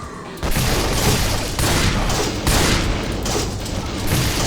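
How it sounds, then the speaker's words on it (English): A plasma rifle fires in a 3D Doom mod, with rapid repeated loud energy shots in quick bursts and short gaps, close and dense, following a brief quieter opening. "the mainstay is a plasma rifle"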